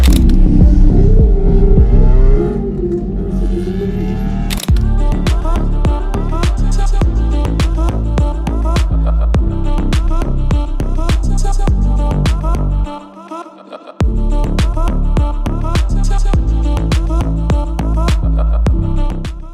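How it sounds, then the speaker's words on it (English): Ecotec-swapped Mazda Miata driving on the road, a steady loud engine drone and road rumble with rhythmic throbbing, a brief dropout near the end, no talk. "Now we are going to be driving the car there this time."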